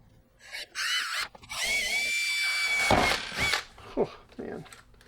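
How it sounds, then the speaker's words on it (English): A power drill bores holes to fit a Ram Mount iPad mount, in several loud whining bursts that rise and strain as the bit bites, separated by short pauses and clunks, with a voice heard between bursts. "If I had a better drill bit, it probably wouldn't be so hard."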